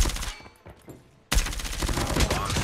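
Rapid gunfire bursts in the mobile shooter game Call of Duty Mobile, a shotgun-armed opponent in the fight, dense loud cracks after a brief lull.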